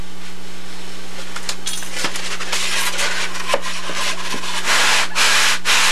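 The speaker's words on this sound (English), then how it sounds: "So I'll trim this with the knife a little bit." A knife trims a high spot on the edge of a workpiece, making close, repeated scraping and rubbing strokes with a few sharp ticks, growing louder toward the end over a steady low hum.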